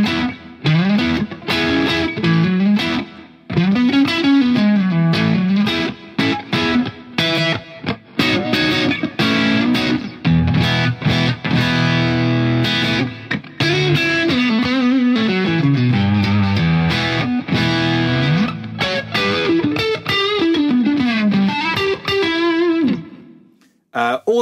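An electric guitar played through the neck pickup runs through a series of distorted riffs and chords, loud, close and continuous, with effects and reverb on the tone, fading out at the end.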